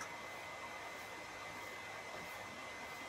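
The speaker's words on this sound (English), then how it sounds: "it's the heater now kicked in" An indoor room heater runs in the background, a steady, faint, unbroken blowing hum with no talk over it.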